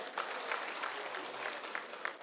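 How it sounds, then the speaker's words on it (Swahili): A gathered crowd at a community security forum in Mbale, Vihiga County, gives a Senior Chief a short round of applause, soft and somewhat distant, with scattered claps standing out. "apigiwe makofi afadhali"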